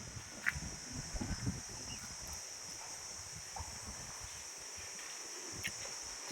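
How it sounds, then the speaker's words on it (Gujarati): Cool wind blows steadily across open farmland near a pond where buffalo drink, a constant broadband rush with occasional gusty rustles, fairly close to the microphone and with no voices. "વ્યવસ્થિત ઠંડો ઠંડો પવન આવે છે."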